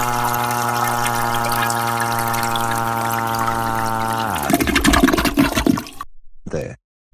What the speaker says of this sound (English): Bad Behemoth, flush him down now.